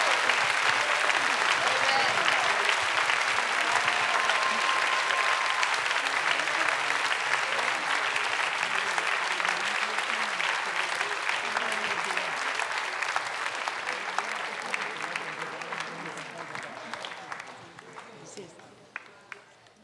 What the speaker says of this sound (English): Let's give the Lord a big hand clap for what He has done.